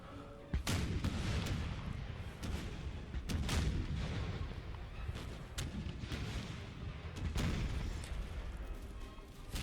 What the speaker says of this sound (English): I assembled all my 3 artillery regiments and let them play havoc with the Russian infantry